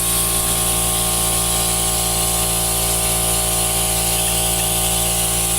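A constant, loud, close hiss of compressed air blows sawdust off a Sears Craftsman sander. It runs unbroken and steady throughout with a faint humming undertone.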